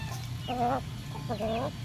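Chickens clucking close by, a rooster among its hens, two short bursts of soft rhythmic clucks over quiet background.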